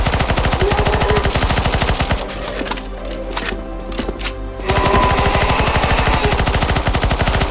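Rapid automatic gunfire in the CS:GO Zombies mode Deadcore on Extreme Mode, loud and continuous bursts that pause briefly mid-clip before resuming at full intensity.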